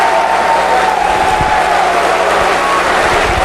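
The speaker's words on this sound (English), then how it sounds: "the crowd loving it" A wrestling crowd at a Ring of Honor show roars and cheers in a loud, constant wall of noise, with a few thuds from the ring cutting through.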